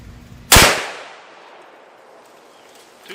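A CVA Scout single-shot rifle in .45-70 Government fires a 250-grain bullet at 10 yards: one loud, sharp report with a fading tail, alone, with no talk.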